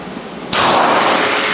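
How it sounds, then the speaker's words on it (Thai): A single close, loud shot from a Sig Sauer P365 9mm pistol cracks sharply, followed by a sustained echoing wash from the range. "เสียงปืนบอกบอกเลยว่าอ่า กระสุนนี้แรงกว่าครับ"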